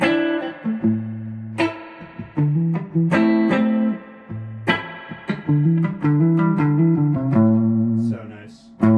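Clean electric guitar notes and chords ring out through a Strymon Flint spring reverb pedal, each pluck trailing a splashy, drippy spring tail in a relaxed, spaced-out phrase with no talking.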